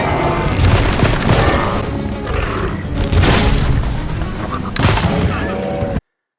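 A bowgun fires special ammo in the video game Monster Hunter Wilds, producing loud, booming shots with sharp bursts at intervals over a continuous rumbling din, ending abruptly.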